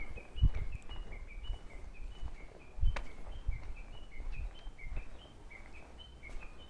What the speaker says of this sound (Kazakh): Чымчык сонун сайрап атат.